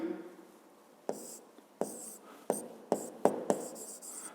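A pen writes by hand while a physics exercise is worked out, giving a quiet, close scratching with sharp taps as each stroke starts, in short irregular bursts.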